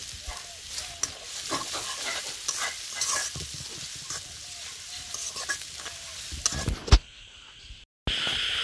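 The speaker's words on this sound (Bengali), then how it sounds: "এখানে রসুন কুচি দিয়ে দিলাম, তারপর পেঁয়াজ কুচি দিয়ে দিয়েছি" Chopped garlic and onion fry in a wok, a close, crackling sizzle with scraping stirs and clatters that peaks sharply near the end before a brief cut.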